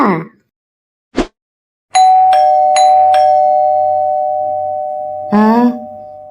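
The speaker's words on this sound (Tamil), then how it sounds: "காலிங் பெல் சவுண்டு கேட்டுச்சு" A cartoon doorbell chimes in a few bright dings, followed by a sustained ringing tone, with short bursts of animated voices before and after.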